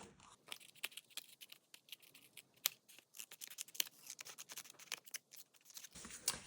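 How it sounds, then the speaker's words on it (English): Scissors snipping through paper card pieces in quick, irregular crisp cuts, close and fairly quiet, with brief pauses between snips. "we can just go through and trim these away, or you could use your trimmer"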